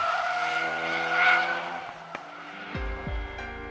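A Ford Focus RS brakes hard with engine hum fading as tires squeal and skid, followed by a couple of low thumps near the end; loud and close, no talk.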